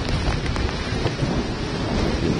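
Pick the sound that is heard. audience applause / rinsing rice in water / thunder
thunder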